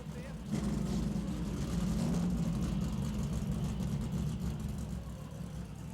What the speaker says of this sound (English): As Alan fires the car, you'll see there's a tremendous amount of noise here.